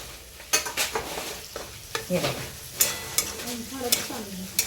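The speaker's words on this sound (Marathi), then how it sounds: "एक कांदा टाकून घेते मी हे कांदा मी चांगला फ्राय करून घेते एकदम" Onion frying in oil after garlic in a pan, a soft sizzle punctuated by repeated spatula stirs and scrapes in an uneven rhythm, close and quiet.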